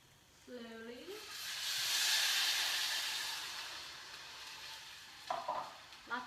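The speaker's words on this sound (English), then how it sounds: "Lots of good sizzle there." Loud, steady sizzling as water is added to rice in a hot pan, swelling into a broad hiss, with a brief utensil scrape near the end.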